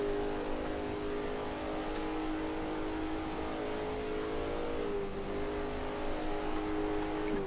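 A Trabant car engine drones at a steady, continuous pitch in the Assetto Corsa sim racing game, holding a sustained tone with slight shifts in revs and no speech.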